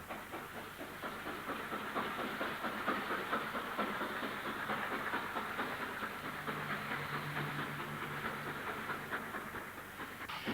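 Steam locomotive 45202 of Newton Heath pulling away from the Bury line platforms with a train of parcel stock, a sustained hissing rush of steam with soft rhythmic chuffing, moderately distant.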